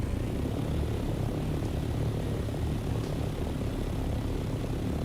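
A steady, loud aircraft engine drone runs unbroken in War Thunder, a dense propeller-like roar with no talking over it.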